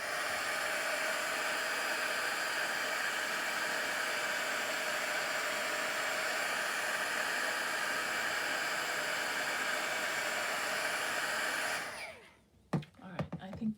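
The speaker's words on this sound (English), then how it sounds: "I'm going to hit it one more time with the heat tool" A heat tool blows a steady, loud whoosh of hot air over a nearly dry craft project for about twelve seconds, then cuts off, followed by a few handling knocks.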